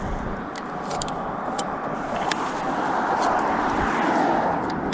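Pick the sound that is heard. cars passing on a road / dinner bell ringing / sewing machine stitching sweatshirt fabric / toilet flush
cars passing on a road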